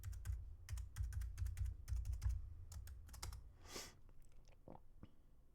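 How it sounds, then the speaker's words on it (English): A password is typed on a computer keyboard as quick, uneven runs of close key clicks, then a few slower taps and a soft rustle near the end, with no voices. "Let's type the password."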